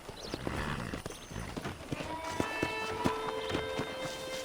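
Horse hooves clip-clop in the video game Red Dead Redemption, a series of irregular hard knocks as the horse walks, joined by jingling tack and faint background ambience, moderately close and with no talking.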